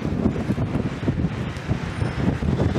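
Strong wind buffets the microphone outdoors by the sea at St. Peter's Bay, Malta, a gusty, rumbling low roar that surges and dips in quick pulses, close and loud, with no voices.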